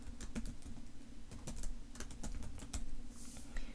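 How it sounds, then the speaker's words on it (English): Someone types on a computer keyboard in a quiet room, a steady run of close, crisp key clicks with slight variation in rhythm and a few louder strokes. "So, all you have to do here is type something here."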